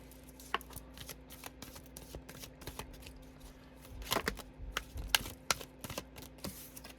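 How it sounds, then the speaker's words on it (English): A deck of tarot cards being shuffled and handled near the microphone, with quick riffling flutters and soft slaps and taps that come in irregular bursts, a louder flurry near the middle. "Let's have half the deck flip over."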